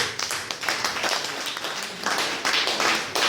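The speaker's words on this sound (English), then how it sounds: "the governor deserves a round of applause" Audience at a 2014 ministerial press briefing applauds the governor, a dense wash of many hands clapping steadily and fairly loud for a few seconds without a break.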